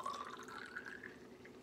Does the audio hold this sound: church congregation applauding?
no